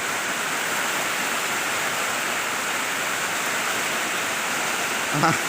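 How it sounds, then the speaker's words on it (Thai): Sudden heavy rain pours down at a home where a baby elephant is being sheltered, a loud unbroken hiss of dense rainfall that fills the whole stretch, with a brief bump of noise near the end. "อยู่ๆก็ฝนมาทันทีครับ"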